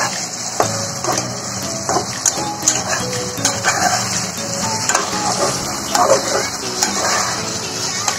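Chicken curry being stirred in a pan with a utensil, with steady sizzling and frying plus repeated scraping knocks against the pan, close and fairly loud, no talk.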